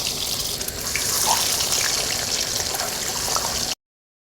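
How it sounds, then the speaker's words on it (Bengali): Eggs fry in hot oil for egg biryani, giving a continuous close, bright sizzling hiss that holds steady and then cuts off abruptly into silence. "একই তেলে ডিমগুলো ভেজে নেব।"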